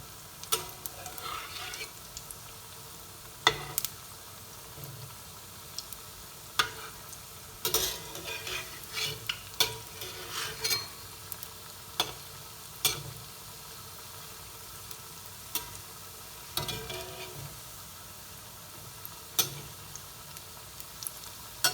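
Tender jackfruit cutlets frying in a pan, a soft steady sizzle with frequent small pops and crackles scattered throughout, fairly quiet and close.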